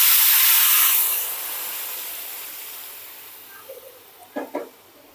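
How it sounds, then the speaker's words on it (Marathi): Half a litre of milk poured into hot ghee with golden fried dry fruits for sheer khurma bursts into a loud hiss that gradually fades, followed near the end by a couple of faint clinks. "मी ना ड्रायफ्रुट्स मस्त तुपात तळून त्याच्यातच दूध ऍड केलंय"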